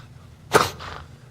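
A person forcefully imitates a snort: one sharp nasal burst followed by a softer breathy exhale, close and alone against quiet background.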